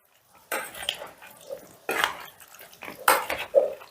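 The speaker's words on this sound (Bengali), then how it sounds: "চিকেনটার মধ্যে দইটা ঢেলে দিচ্ছি। ঢেলে দিয়ে 2টো স্পুনের সাহায্যে এইভাবে ভালো করে মিশিয়ে দিতে হবে।" Two spoons working yogurt into chicken in a bowl, with a few sharp metallic clinks and scrapes in short bursts separated by quiet gaps, close by.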